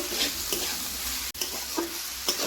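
Seeded banana flower frying with chili powder in a pan for a village-style vegetarian mochar ghonto, giving a close, steady sizzle broken by a few scraping stirs of a spatula, with no voices.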